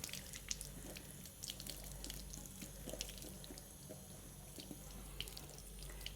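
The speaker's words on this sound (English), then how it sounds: "just making sure that the water is running straight off or away from the area that we're trying to clean" Tap water runs steadily into a sink during a surgical hand scrub, a continuous soft splashing stream with faint scattered drips and no voices.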